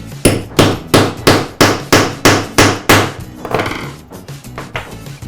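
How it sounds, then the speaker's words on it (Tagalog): A hammer strikes a snap setter to set a snap on leather, about a dozen sharp, even blows close up, then several lighter, quicker taps. "And take this setter and hammer."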